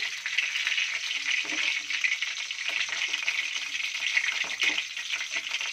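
Pomfret fish sizzles steadily in hot oil in a pan, a continuous crackling hiss with a few soft clinks and stirring sounds.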